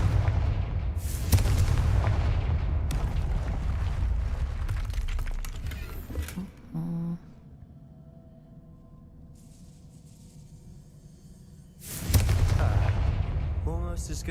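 The Confringo explosive spell being cast in Hogwarts Legacy: a loud, booming, rumbling blast that holds for several seconds, fades into a quieter stretch, then a second heavy burst erupts near the end.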